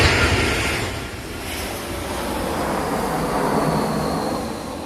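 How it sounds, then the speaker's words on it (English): An airplane passes overhead near an airport with a broad, steady roar that swells and eases slightly over several seconds, heard outdoors with no one talking. "There's planes going over all the time."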